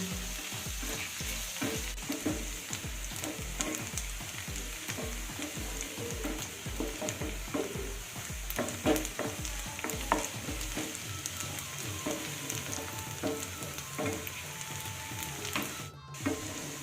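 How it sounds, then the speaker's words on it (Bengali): Chopped onion fries lightly in a pan while being stirred continuously, giving a steady soft sizzle with repeated scraping strokes, fairly quiet and with no voices. "এবার এই পেঁয়াজটাকে আমি এক মিনিট মতো হালকা ভেজে নেব বেশি ভাজবো না"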